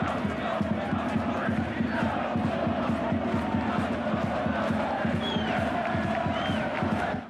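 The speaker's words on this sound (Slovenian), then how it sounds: "veselje zdaj mariborskih navijačev" A large crowd of Maribor football fans cheering and chanting after an equaliser in a Slovenian league match, a steady rhythmic roar, distant and continuous for several seconds.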